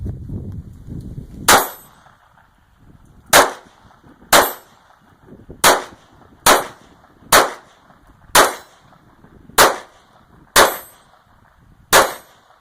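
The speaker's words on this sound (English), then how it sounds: "Really hard to hear that steel hit with these 22s coming out of the pistol." A Ruger SR22 pistol fires .22 rounds at steel targets: about ten sharp shots spaced roughly a second apart, each a crisp crack with a bright metallic ring from the struck steel, loud and close with no talking.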